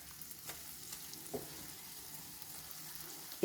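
Semolina halwa gently frying in ghee that has separated at the edges, a faint soft sizzle with a couple of light stirring knocks, quiet and close.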